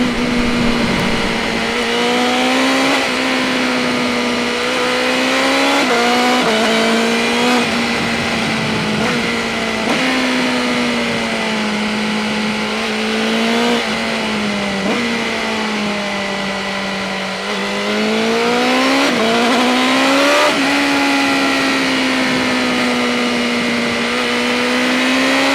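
A BMW M 1000 R motorcycle engine hums steadily while being ridden gently during break-in, its loud tone rising and falling as the revs shift over the ride, with no talking.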